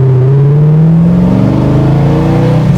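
A 1972 De Tomaso Pantera accelerates hard while being driven, its engine note rising steadily in pitch, loud and close, with no talking.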